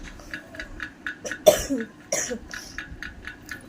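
Two harsh coughs from a person with a fever, about half a second apart, close and loud, over a quiet background of faint regular ticking.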